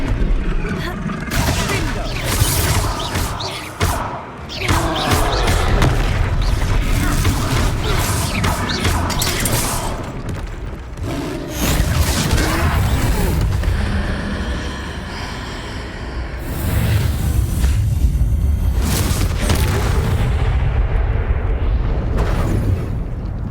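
Spell explosions and combat blasts in Hogwarts Legacy during a troll fight, a dense, continuous stretch of loud booms and crashes with overlapping game sound effects, talk running through parts of it.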